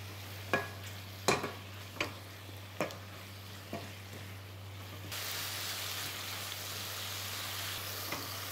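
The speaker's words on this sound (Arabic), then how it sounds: "هستمر بطبخ الدجاج" Chicken cooking in a pan, stirred with a few sharp scraping strokes over the first five seconds before settling into a steady, even sizzle.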